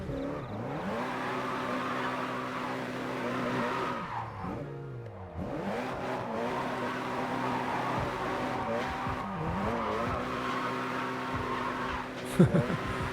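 A car in a drift racing video game revs hard and swings through slides, the engine note rising and falling with squealing tires over steady motor drone, ending with a sharp knock.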